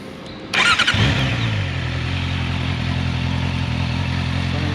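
Honda CBR650R motorcycle firing up after a short starter whir, then settling into a loud, close, steady idle with a brief rev at the catch; no talking.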